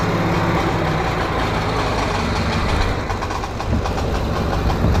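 Lawn mower engine running steadily with a blown-out muffler patched using a paint can lid, a loud, close, continuous rumbling drone with a slight dip near the middle and no talk over it.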